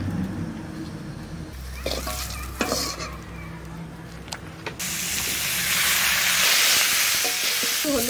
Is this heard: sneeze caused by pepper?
no